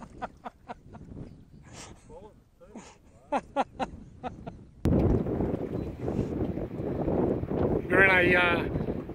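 A voice speaks briefly, then a strong gale roars and buffets the microphone in loud, continuous gusts at Lake Buffalo.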